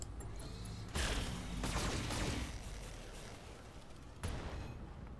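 Heavy gunfire in the mech combat game Roguetech: a sustained roaring barrage with two sharp loud onsets, dense and booming, no voices.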